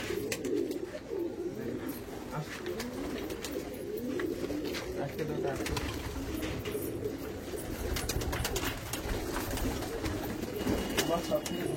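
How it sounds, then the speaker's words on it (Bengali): Pigeons coo steadily in a pigeon loft, soft low burbling calls overlapping throughout with occasional wing flutters, while people talk nearby. "ফার্স্ট সব পুরোনো পায়রা আমি দেখাচ্ছি।"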